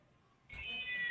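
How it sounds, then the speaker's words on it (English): A house cat meowing, one drawn-out rising yowl that starts abruptly after near silence, close and fairly loud, heard alone. "My damn cat."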